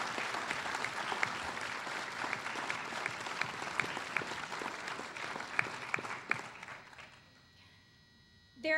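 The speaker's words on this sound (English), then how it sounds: "Let's give them another round of applause," Audience applause for award honorees at the 2016 GEM Awards ceremony, steady dense clapping for about seven seconds, then fading out as the hall quiets and a voice begins.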